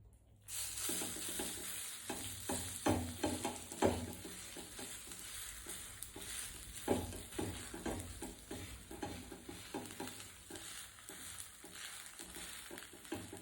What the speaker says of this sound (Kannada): ಇದನ್ನ ನೇರವಾಗಿ ಹಂಚ ಮೇಲೆ ತೊಟ್ಕೊತಿದ್ದೀನಿ.